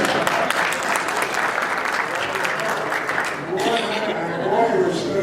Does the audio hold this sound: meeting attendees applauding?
yes